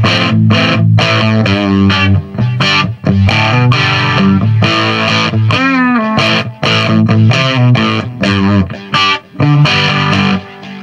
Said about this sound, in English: It's got a modulated delay coming out of the GSP1101, which is quite cool.